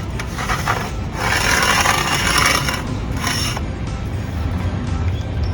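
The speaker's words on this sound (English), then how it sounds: "Let's go ahead and lower our flagpole and take a look at the top." A telescoping stainless steel flagpole, a Service First Delta Freedom Edition, is lowered, its sections sliding with loud rubbing and scraping in a few uneven bursts, close by.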